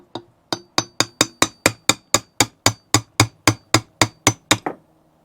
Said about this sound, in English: I'm going to tap through now the spindle in one direction.